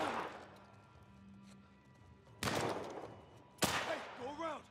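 Two sharp, loud gunshot bursts in The Last of Us Part 1, each cracking out with a long ringing tail, separated by quieter ambience with faint voice-like tones.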